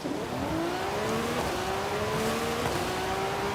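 A Lamborghini Revuelto with factory exhaust in Forza Horizon 5 runs steadily, a droning engine tone climbing through gear shifts at a constant, moderately loud level.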